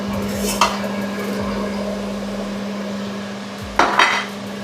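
Utensil scraping and clanking in a pan of melted ghee as ingredients are stirred together, with a steady hum throughout and a couple of louder metallic knocks near the start and end.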